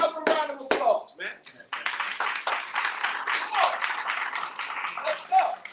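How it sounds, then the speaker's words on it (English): Clapping from a group during a class session, a dense patter of hands that starts after a few brief voice sounds and continues steadily, moderately loud and close. "Get yourself a round of applause, man."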